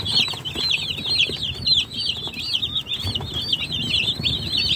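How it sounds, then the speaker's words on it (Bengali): Fifty two-day-old chicks kept under a heat bulb cheep constantly, a close chorus of rapid, overlapping high peeps with faint rustling below. "এই যে আমার মুরগি, আজকের বয়স হচ্ছে 2 দিন।"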